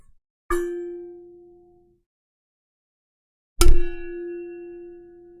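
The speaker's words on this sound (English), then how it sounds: "Sounds like a gong." Two loud metallic clangs from struck light bulbs about three seconds apart, each ringing out with a sustained, gong-like hum that slowly fades.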